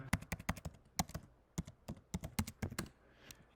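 Rapid typing on a computer keyboard, crisp irregular key clicks in quick bursts, close and clear with no talking.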